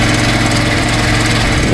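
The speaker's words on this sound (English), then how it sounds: "That's a hydraulic motor." Steady, loud hydraulic motor drone turning a big sprocket and roller, a constant mechanical hum with a low throbbing pulse and no pauses.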